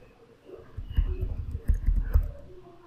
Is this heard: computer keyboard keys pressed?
yes